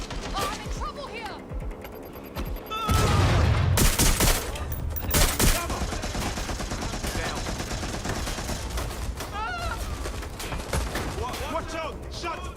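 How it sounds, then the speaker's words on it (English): Gunfire rings out in Watch Dogs Legion, with bursts of shots, crashes and impacts mixed into loud game action over about twelve seconds, while voices shout over the chaos. "Shots fired!"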